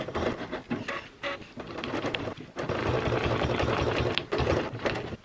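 A sewing machine stitches a clutch wallet in fast, rattling runs, stopping briefly as the needle stays down and the presser foot is raised to pivot, then resuming close and loud.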